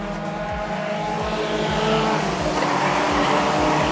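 Street stock race cars roar around a speedway in a close pack, loud engines droning steadily as several cars sweep past one after another into a corner.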